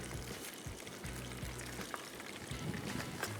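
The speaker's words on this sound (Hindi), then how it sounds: "और ये तीसरा चिकन ब्रेस्ट भी गया ऑयल में" A third chicken breast for chicken cordon bleu frying in a pan of hot oil gives off a steady, dense sizzle, with a few soft low thumps as the meat settles.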